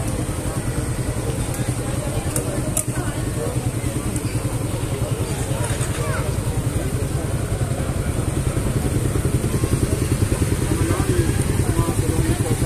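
A motorcycle engine idles steadily through a blessing, its low rhythmic putter continuous and close while people talk over it.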